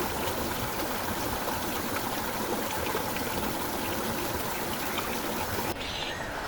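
A natural river stream flows steadily through rural countryside, a dense, continuous rush of water that stays loud and unbroken throughout before thinning out abruptly near the very end.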